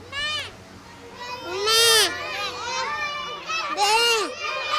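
A voice mimics a goat's bleat several times, wavering "meh" sounds close by, mixed with other children's chatter in the background.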